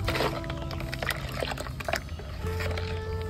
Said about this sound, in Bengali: আর এভাবে একটু করে নেড়ে দিতে হবে।